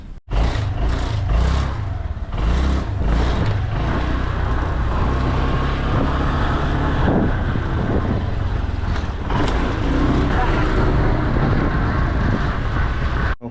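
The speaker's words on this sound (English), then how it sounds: "driving around a moped in Bali" A moped rides through Bali traffic, its engine droning loud and close alongside the roar of surrounding vehicles and wind for the whole stretch.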